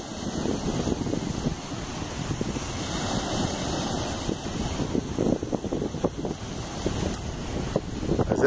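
Waves and wind at Carne de Vaca beach in Pernambuco, heard as a steady, loud roar of surf with gusting wind buffeting close to the microphone, continuous throughout with no talking.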